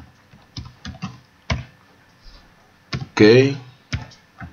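Several separate key clicks from a computer keyboard as a website address is typed into a blog dashboard, ending in a firmer press, with one short spoken word near the end.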